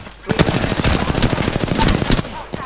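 Rapid automatic gunfire bursts loudly and close in the Apex Legends video game, with dense repeated shots throughout.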